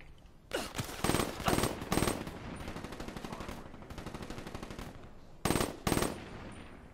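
Unsuppressed automatic gunfire in Call of Duty: Black Ops III, with loud close bursts of rapid shots separated by brief pauses and a long sustained volley in the middle.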